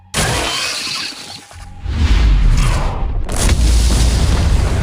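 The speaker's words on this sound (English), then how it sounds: "Looks like fireworks are going off in the ant tunnels." Booming explosions in ant tunnels in the Solo Leveling Arise game, a crashing, shattering blast followed by a deep rumbling boom that swells and keeps roaring, loud and close.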